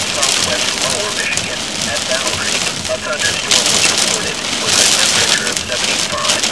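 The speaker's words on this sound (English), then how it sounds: "Dime to nickel size hail." Dime- to nickel-size hail and rain hammer down in a severe supercell thunderstorm near Athens, Michigan, a loud, dense crackling clatter that surges in waves with gusty wind.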